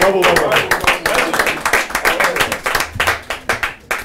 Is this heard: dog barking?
no